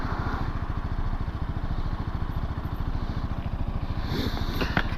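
A BMW G310GS Rallye motorcycle engine thrums steadily under riding, a loud, close, rapid single-cylinder pulse with wind noise and a few rattling clicks toward the end.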